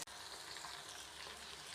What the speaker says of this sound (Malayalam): ഇനി നമുക്ക് വെണ്ടയ്ക്ക ഇട്ട് വറുത്തെടുക്കാം